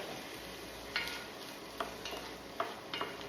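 Chopped onion stirred in a pan for Italian meat sauce, a soft continuous sizzle with a few distinct scraping clicks of a utensil, close but fairly quiet.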